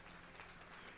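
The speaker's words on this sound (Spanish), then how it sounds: "denle un aplauso al Señor" Church congregation applauding: steady, dense clapping from a crowd, even and sustained throughout, heard at a distance without voices over it.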